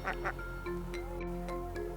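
A duck quacks a few short times close by, with a limping duck belonging to a farmer in a rice-field setting, over a steady low hum with no talk.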